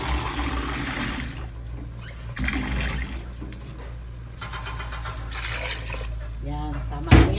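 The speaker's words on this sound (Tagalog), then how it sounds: "Maglagay na tayo ng tubig." Water is poured into a pot of boiling pork, a steady gushing, splashing pour that runs close and fairly loud through the whole stretch, with a brief louder burst near the end.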